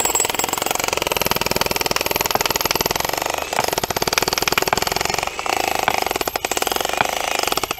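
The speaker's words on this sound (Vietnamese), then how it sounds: "lấy búa các bạn đập" Concrete at a bridge pier foundation is broken up by a loud, rapid, continuous mechanical hammering, like a jackhammer chiselling. It runs close and unbroken except for a few brief pauses.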